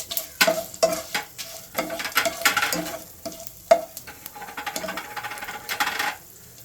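Curry leaves and cumin seeds hit hot oil for a chicken kuzhambu, crackling and sizzling with sharp pops and spatters and a few scraping stirs, close and moderately loud with no talking.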